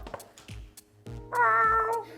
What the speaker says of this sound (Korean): 실제 고양이 목소리